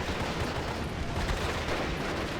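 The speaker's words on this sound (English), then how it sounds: "They've just landed a grenade shot right in the middle of these rifles" Steady battle din from Steel Division: Normandy 44, a dense wash of distant rifle fire and a grenade blast among infantry squads, rumbling continuously without pauses.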